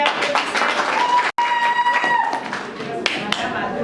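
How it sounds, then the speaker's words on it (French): Guests clap for the bride and groom at a civil wedding, a brisk burst of applause mixed with talking, briefly cut off and then carrying on more loosely. "Ok, applaudissez."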